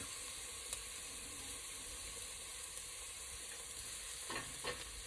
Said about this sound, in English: we will saute our onions. Once they start becoming translucent, adding in our garlic